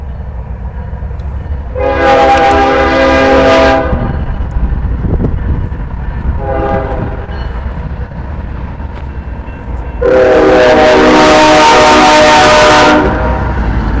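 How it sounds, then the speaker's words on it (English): A train horn blares in long, loud bursts: one early, a fainter one midway, and a strong final blast, over a steady rumble of a passing train. "The train's coming through."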